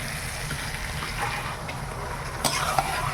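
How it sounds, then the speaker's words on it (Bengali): Mutton pieces go into a pan of well-fried spice masala in a village kitchen. A soft, steady sizzle with stirring comes through, and a brief clatter is heard partway through. "মশলাটা খুব সুন্দর কষানো হয়ে গেছে, এইবার মাংসটা দিয়ে দেই।"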